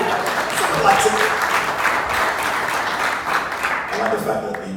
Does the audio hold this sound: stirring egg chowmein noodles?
no